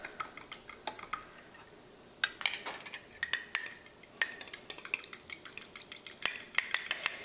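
A utensil stirs an olive oil mixture in a bowl, making quick, rhythmic clinks and scrapes against the dish. They are close and crisp, with a brief pause before the stirring picks up again.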